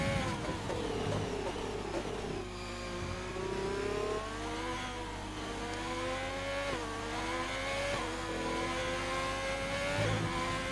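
A race car engine in a sim racing game revs and shifts through gears on a lap at Stowe on the Britain circuit, rising and falling pitch sustained steadily and close, with a faint tire squeal.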